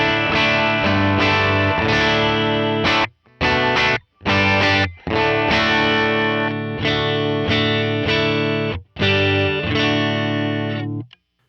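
Electric guitar played through the Dream pedal as an amp replacement, loud distorted chords ringing in sustained strums broken by a few short stops, with no talking.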